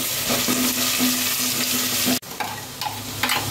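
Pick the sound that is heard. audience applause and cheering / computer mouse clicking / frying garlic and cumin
frying garlic and cumin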